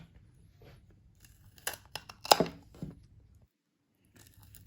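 KING TIGER KT2R anvil pruning shears cut through branches in a few short crisp snips and crunches, close up, separated by quiet pauses.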